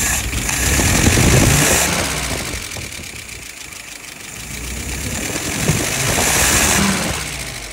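A car engine idles steadily after a tuning adjustment, a continuous close rumble that swells and eases slowly in loudness with a faint high whine above it, no talking.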